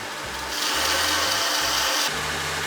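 A grinder shapes the bevel of a knife blade, its motor hum overlaid by a hissing rasp of steel on the abrasive that swells as the blade is pressed in for a stretch, then eases off.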